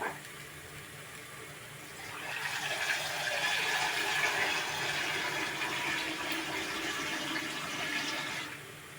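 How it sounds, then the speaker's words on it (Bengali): One bowlful of water pours steadily into a pot of rice for keema rice, a close, continuous splashing gush of about six seconds that stops abruptly. "এর মধ্যে আমি এই বাটির 1 বাটি জল অ্যাড করছি।"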